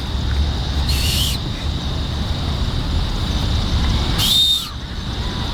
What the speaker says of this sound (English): Fill yourself up and force all that air out that whistle.